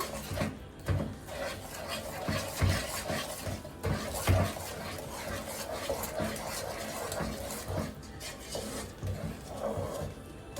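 Milk powder, sugar and water being mixed by hand in a bowl for burfi, with repeated rubbing, scraping strokes and occasional knocks against the vessel, close and steady.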